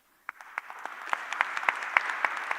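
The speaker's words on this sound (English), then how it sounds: "I'm kindly request another round of applause, for them." Scattered, fairly sparse clapping from a conference audience at the GEO Week ministerial summit, starting with a few distinct claps and building into a steady ripple of applause.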